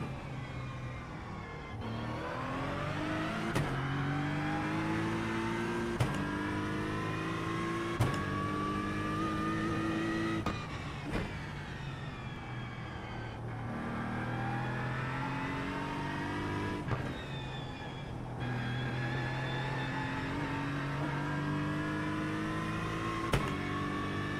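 Porsche Cup race car in iRacing, its engine droning steadily and loud throughout with repeated rising revs and sharp gear-shift breaks, no talk over it.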